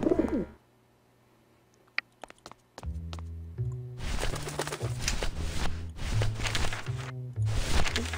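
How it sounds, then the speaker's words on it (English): A pigeon in the adventure game Grim Fandango coos repeatedly in soft, rhythmic throaty calls, close and clear over quiet game ambience after a brief burst of sound at the start. "To the pigeon."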